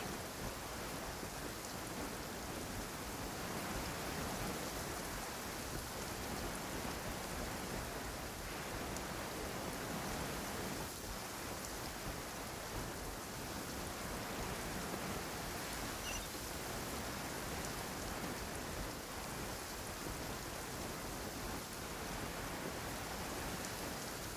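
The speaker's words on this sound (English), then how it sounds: "It's raining again? Oh, this isn't good." Rain falls steadily for the whole stretch as a dense, even hiss of drops hitting surfaces, with faint low rumbling underneath. There is no talk.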